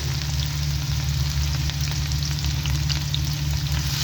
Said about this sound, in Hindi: प्याज अच्छे से फ्राई कर लेंगे।